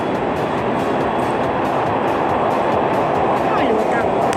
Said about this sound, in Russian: Сейчас скоро должен поезд, вон уже едет поезд.